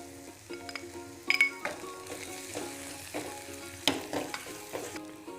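Crushed ginger, garlic and green chili sizzle and fry steadily in a pan for a fish thoran, with a few sharp clinks and stirring scrapes breaking through the continuous crackle.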